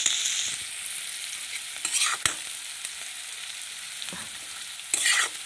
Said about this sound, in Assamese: তাৰপিছত অকণমান সময় ভাজি আছোঁ, আকৌ ভাজিম।